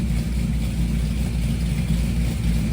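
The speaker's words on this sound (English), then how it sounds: "first start, it's kind of coming down to an idle now" A Chevrolet C10 truck engine with a new cam idles after its first start, a loud, steady low rumble with a slight lope, heard up close and alone.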